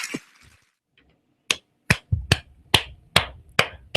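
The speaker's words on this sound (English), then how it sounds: "That is a sarcastic applause sound." A sarcastic sound effect of slow, spaced hand claps: about seven sharp, loud claps in an even, deliberate rhythm after a brief faint sound, with no talking.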